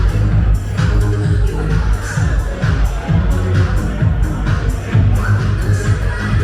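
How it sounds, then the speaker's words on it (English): A dense crowd murmurs on the opening night of a gentlemen's club in Angeles City, loud overlapping chatter with occasional shouts over a thumping music beat. "They got quite a crowd out tonight."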